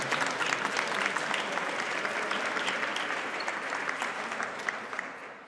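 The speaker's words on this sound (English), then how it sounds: "The gallery, if we could give her a round of applause," An indoor audience applauds steadily at a press event in the State Capitol for an afterschool advocacy day, with dense clapping that continues for several seconds and tapers slightly at the end, with no talk over it.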